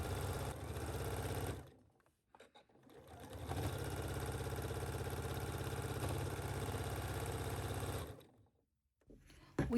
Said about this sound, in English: we are going to stay stitch the upper edge of the skirt.